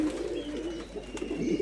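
Pigeons cooing in a pigeon loft, a steady low murmur of soft overlapping coos running throughout at close range with no talk.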